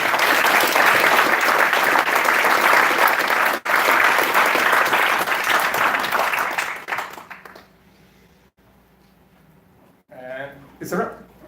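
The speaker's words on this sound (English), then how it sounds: "give yourselves a big round of applause" An audience applauds at the close of a conference, loud sustained clapping that fades out after about seven seconds, followed by near quiet and then brief speech.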